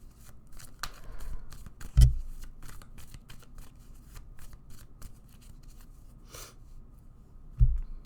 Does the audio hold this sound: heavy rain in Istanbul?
no